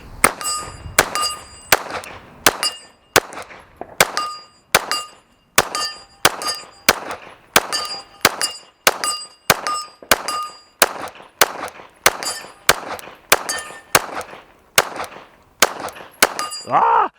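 A Glock 17 Gen 6 pistol fired in a steady string of about two dozen sharp shots, roughly one per second, each crack followed by a ringing metallic clang from steel targets downrange.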